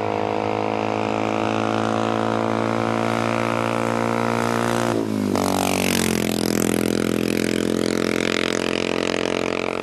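A trials motorcycle engine revs hard and steadily, holding a high whine before dropping sharply mid-way, then building back into a rising, rasping roar, loud and close with no talk.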